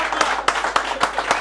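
An audience at an award presentation claps in a slow, even rhythm, with about five distinct beats rising out of a low background murmur.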